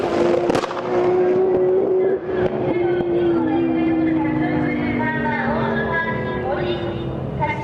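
A Nissan GT-R drag racing car accelerates hard down the strip, its engine roaring loudly and rising in pitch through gear changes, with a commentator's voice over it.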